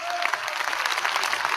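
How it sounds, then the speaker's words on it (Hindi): Dense applause from a large audience at a speech by Pakistan's army chief, loud and continuous throughout with crowd noise mixed in. "ये सारे जो तालियां मार रहे हैं"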